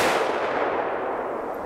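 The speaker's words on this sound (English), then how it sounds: "I'll take a shot on the lower left side of the plate, so we're plenty far away from the previous shot." A 7.62 NATO M993 armor-piercing rifle round strikes an RMA Model 1189 armor plate. A loud, harsh blast trails off across the short moment, with no voices present.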